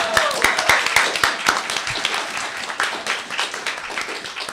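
An audience at BronyCAN 2014 claps and cheers after a poetry performance, with sharp scattered claps over a steady wash of applause and a few whoops early on.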